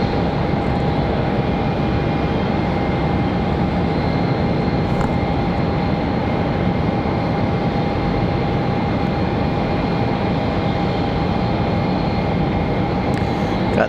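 Jet aircraft at Raleigh Durham International Airport, with planes waiting at the end of the runway, make a steady, broad engine roar and rumble that holds evenly and continuously, with no voices over it.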